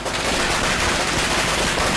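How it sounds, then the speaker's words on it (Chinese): Rapid firecracker bursts played back in a quail-rearing setting to get young laying quail used to loud noise; a dense, continuous crackle of overlapping pops fills the whole stretch at steady loudness, with no talk. "间歇性的给予鞭炮声"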